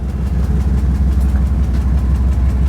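An old, well-worn custom van with about 192,000 miles runs with a loud, steady low engine rumble and a constant drone up close, with no voices.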